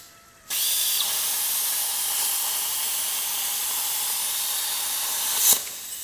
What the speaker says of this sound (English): that's with the drill.